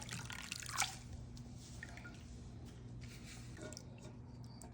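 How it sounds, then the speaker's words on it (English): Palm nut soup is strained through a regular colander, making faint dripping and wet, squishy liquid sounds close by. "we're going to strain. First, she's using a regular strainer or colander"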